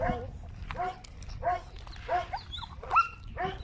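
Several dogs, including Dogo Argentinos at feeding time, bark and yelp in quick, repeated bursts while a person talks nearby.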